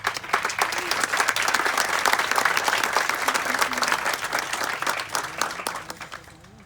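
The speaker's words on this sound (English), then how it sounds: "you guys would give your teachers a round of applause, please" A crowd applauds teachers at the 2021 Highlander High School graduation ceremony, steady dense clapping that holds strong for several seconds before tapering slightly near the end.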